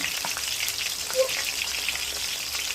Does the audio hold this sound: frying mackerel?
yes